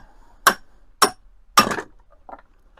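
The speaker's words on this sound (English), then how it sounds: "I'm going to try tapping on this shaft and pushing it out." Three sharp metallic taps on the shaft of a Smithy combo lathe/mill/drill head as it is driven out, evenly spaced and ringing briefly, followed by a faint clink.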